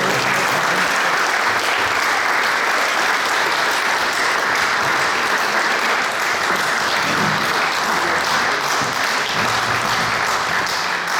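Sustained, loud applause fills the hall for an award recipient at a ceremony marking the 40th anniversary of a Gorenjska paraplegics' association, a dense steady clapping from a large crowd throughout.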